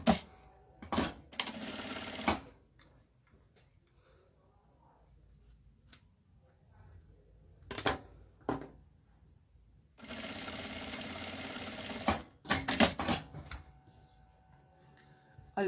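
A sewing machine stitches fabric onto a zipper edge for a small wallet, running in several short bursts separated by quiet pauses, with two longer stretches of steady whirring and clicking nearby.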